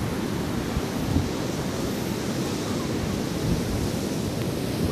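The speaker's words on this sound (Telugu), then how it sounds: "అఖండ గోదావరి మరియు సముద్రం బీచ్ కలిసే చోటు కనబడుతుంది మీ అందరికీ" Sea waves roll at the beach where the broad Godavari river meets the sea, a dense, steady roar of surf mixed with wind rumble throughout, with no voices.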